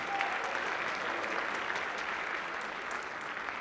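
A crowd at the Manhattan State of the Borough address applauds for the state legislature, a steady wash of many hands clapping at moderate volume throughout.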